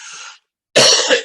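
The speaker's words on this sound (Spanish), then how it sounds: "perdón, estoy con tos" A brief breathy exhale, a short silence, then a harsh, loud cough close by with a quick second burst at the end.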